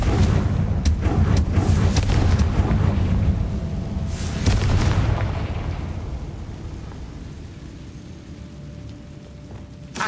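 A spell explosion from Confringo in the video game Hogwarts Legacy, a loud rumbling blast that holds for several seconds and then slowly fades into a low tail, with no talk over it.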